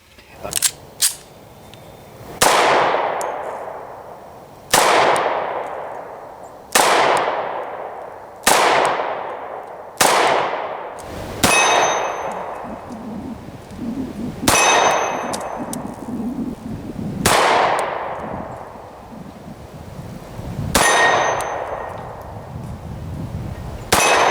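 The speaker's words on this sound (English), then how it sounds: "I really like shooting this little pistol." About ten sharp shots from a Para Ordnance 1911 P12-45 pistol ring off steel targets. Each crack is followed by a bright metallic clang that fades, spaced a second or two apart.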